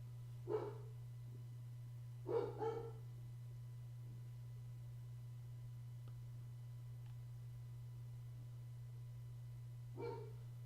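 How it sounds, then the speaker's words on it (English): A dog barks in another room, three short distant bursts spread across the stretch, faint over a steady electrical hum with no talk. "You hear my dog."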